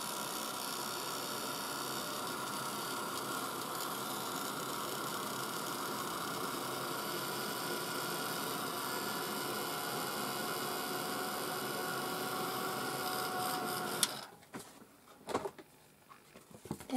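A heat tool blows over glitter on a craft shaker with a steady, loud whirring roar that runs unbroken, then cuts off near the end and leaves a few faint handling knocks.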